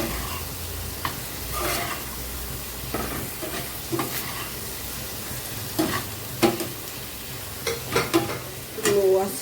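Fried pointed gourd being sautéed with a spice paste on low heat, a constant close sizzle with irregular stirring scrapes and light taps against the pan that grow more frequent near the end.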